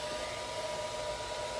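A hair dryer blows steadily over wet watercolour paint, a close, continuous whooshing hum with a faint motor whine, unbroken and alone.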